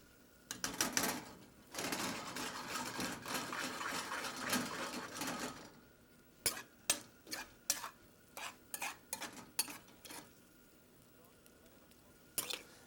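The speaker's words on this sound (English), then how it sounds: "So I'm going to just stir that around again." Onions and vegetables frying in a pan are stirred with a utensil, a faint continuous sizzling scrape for several seconds, then a series of separate clacking strokes against the pan.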